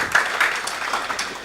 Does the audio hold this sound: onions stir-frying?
no